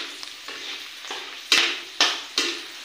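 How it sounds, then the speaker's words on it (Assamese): Onion and turmeric frying in hot oil in a kadhai, giving a soft, close sizzle that swells, followed by three louder scraping stirs near the end. "কেৰাহীত গৰম হোৱাত তেল দিলে পিঁয়াজ দি হালধি দি অলপমান ভাজি আছে"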